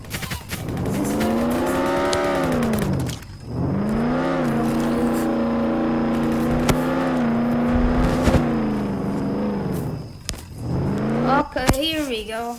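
A Tesla Model 3 in a multiplayer driving video game, giving a steady synthetic electric-motor whine that holds for a few seconds, drops away briefly, then resumes with rising and falling pitch near the end.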